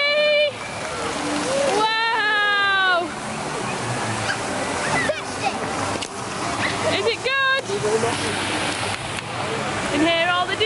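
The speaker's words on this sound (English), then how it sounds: "We're at the waterfall." Steady rushing water of a waterfall at Disneyland Paris roars throughout, with people talking and children's voices rising over it.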